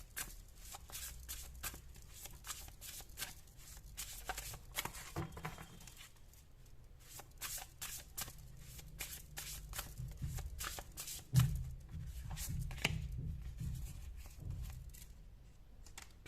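Tarot cards being shuffled by hand, a long run of quick, close riffling bursts and soft patters repeating steadily at low volume.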